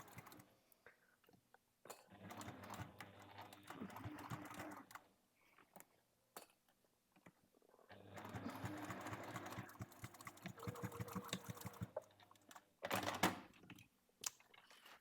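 A domestic sewing machine stitches a seam on a fabric bag in two sustained bursts of rapid mechanical whirring, separated by pauses filled with small clicks and handling noises, fairly quiet and close with no talking.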